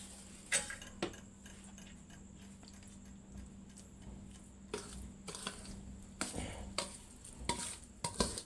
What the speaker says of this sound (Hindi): अब मसाले को और कटहल के पीसेस को आपस में मिला देंगे।